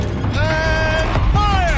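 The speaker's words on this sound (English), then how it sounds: "Rotate turret!" A war machine's turret rotates in the game Horizon Zero Dawn, giving a steady mechanical creaking and grinding with a sustained whine that shifts in pitch as it turns, loud and close for about two seconds.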